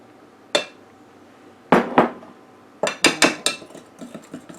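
A utensil clinks and knocks against a bowl while thick banana walnut bread batter is stirred, giving scattered sharp taps that cluster toward the end, close and fairly loud, with no talking.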